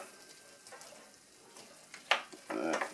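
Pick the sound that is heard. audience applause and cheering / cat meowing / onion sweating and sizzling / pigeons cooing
onion sweating and sizzling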